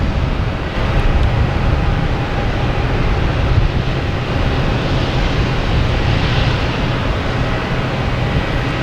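An Avianca airliner in special livery at Boston Logan Airport makes a loud, continuous roar with a rushing, wind-like texture that stays fairly constant throughout.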